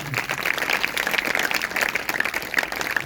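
Audience applause at a Hindi-language Christian preaching service, a dense steady clatter of many hands clapping that fills the whole stretch at moderate loudness with no pauses.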